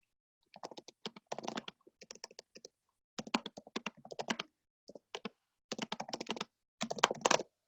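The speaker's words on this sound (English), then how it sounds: "I'll just type it again." Someone types on a computer keyboard in quick bursts of crisp, close keystrokes, with short pauses between the clusters of clicks and no talking.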